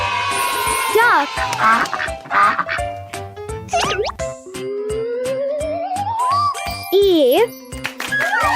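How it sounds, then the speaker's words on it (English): A cartoon duck quacks in a series of short, bright calls over playful jingling music and sliding sound effects, with children's voices chiming in around them. "Duck."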